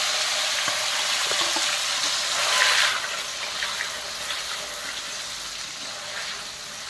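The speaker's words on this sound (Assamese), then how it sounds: "গৰম তেলত দি দিলোঁ পনীৰটো" Paneer frying in hot oil in a pan: a steady, close sizzling hiss that swells briefly partway through, then settles into a slightly softer, even crackle.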